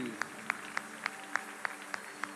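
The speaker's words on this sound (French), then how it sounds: "Somebody put their hands together for Jesus." A church congregation claps for Jesus in a steady, even rhythm of about four claps per second, with a crowd murmur beneath.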